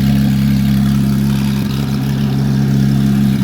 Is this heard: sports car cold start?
yes